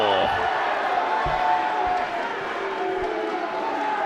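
Spectators at a schools netball match between King's Worcester and RGS Worcester let out a loud, sustained groan of disapproval, a dense crowd murmur filling the hall, with a few thuds and a ball bounce underneath.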